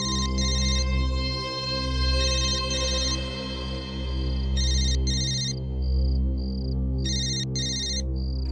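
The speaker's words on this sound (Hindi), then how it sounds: "फोन बज रहा है तेरा।" A telephone rings in an office in a crime drama, a ringtone repeating in short bright bursts over a steady low background hum, with no talking.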